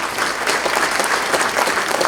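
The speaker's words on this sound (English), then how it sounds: "Please give him a round of applause along with the other soloists." An audience at a middle school winter band concert claps for the soloists, a dense and steady round of applause that stays loud throughout with no break.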